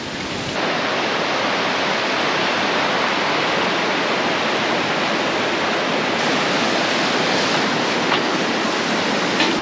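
Moul Falls in Wells Gray Park in winter, a steady, loud, broadband roar of falling water that continues unbroken and close by, with no voices.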